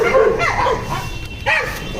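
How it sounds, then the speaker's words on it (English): Dogs bark and yip on a night street in Kolkata, several short calls close by among traffic hum, with a louder burst near the end and voices chatting underneath. "Dogs have started barking."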